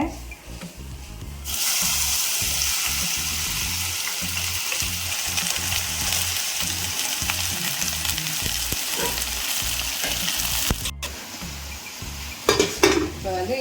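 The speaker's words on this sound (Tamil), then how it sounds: "இது வந்து வெண்டைக்காய் பொரியலுக்கு வெண்டைக்காய் நல்லா வதக்கி எடுத்துக்கிறேன்" About 300 grams of okra sautéing in hot oil in a pan for a poriyal stir-fry. A loud, continuous sizzle starts abruptly and holds steady, with occasional utensil scrapes and clatter near the end.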